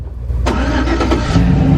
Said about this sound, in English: so he's moving the truck.